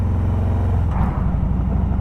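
Harley-Davidson Road King Special motorcycle, a 2023 model, overtaking a line of traffic, its engine a loud, steady low rumble close by that swells slightly as it pulls past.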